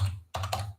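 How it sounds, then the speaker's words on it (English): Computer keyboard typing in two short bursts of clustered key clicks, close and fairly quiet over a low hum, with a brief pause between them. "No, I don't like the typing."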